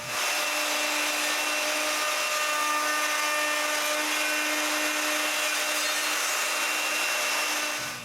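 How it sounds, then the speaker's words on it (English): Steady, loud router noise runs alone for about eight seconds as a handheld router clamped in a woodworking jig smooths bandsaw marks off a wooden test piece, with a constant whine and a broad rasp. "with the router, I clean the bandsaw marks"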